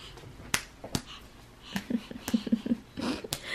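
A baby claps her bare feet together, making a few soft slaps with uneven gaps between them. Faint breathy baby vocal sounds come in between the slaps.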